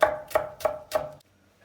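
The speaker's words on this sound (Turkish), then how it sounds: "Biberlerimizi de ince doğrayacağız." Four crisp knife chops on a cutting board at an even pace as peppers are finely chopped, close and fairly loud, then quiet.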